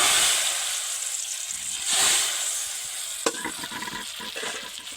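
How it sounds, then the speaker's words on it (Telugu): Mustard seeds and curry leaves fried for tempering are poured into boiling tomato rasam, giving a steady close sizzle and hiss that swells briefly, then settles into softer bubbling with a sharp click of a utensil. "కాగే రసంలో తాలింపు వేసుకుందాం"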